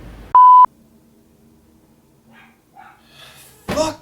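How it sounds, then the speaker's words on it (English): Dogs bark in a short loud burst near the start, with a steady electronic beep sounding alongside; the rest stays quiet apart from faint scattered noises and a brief rustle near the end. "Fuck those fucking dogs!"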